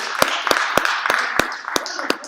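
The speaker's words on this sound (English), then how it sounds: "One more time, a big round of applause for everybody" Audience applause at a live-streamed holiday gathering at Onwentsia House. Sharp, evenly spaced claps stand out fairly close over a dense, steady wash of crowd clapping.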